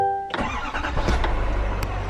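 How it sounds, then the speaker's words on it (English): A 2024 Duramax pickup truck engine being started: a short cranking burst that catches into a loud, steady running rumble close by, with no talking. "I'll just let this prime up for a second, and hopefully the truck starts up."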